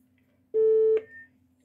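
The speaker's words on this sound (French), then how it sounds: "Le 440 qui est la tonalité." A steady 440 Hz telephone dial tone sent through a payphone operator's metering board test setup, one clean sustained tone of about half a second ending in a small click, over a low background hum.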